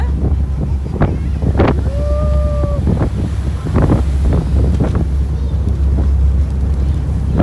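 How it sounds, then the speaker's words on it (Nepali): Strong wind buffets the microphone on a boat trip, a loud continuous roar with water and engine rumble underneath. Sharp gusty bursts and a brief tonal whistle rise above it, and there is no talk. "कस्तो हावा चलेको"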